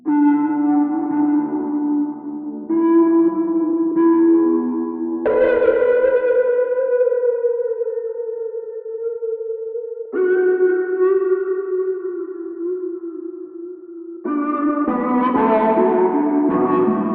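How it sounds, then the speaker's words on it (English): Soundpaint Aquatic Harp notes with sustained harmonic distortion ring out in long, drawn-out tones, several separate sustained pitches changing every few seconds, loud and smeared with echo, with no voices. "Went for more of a sustain, kind of longer, drawn out harmonic distortion rather than kind of a quick punchy one with this one."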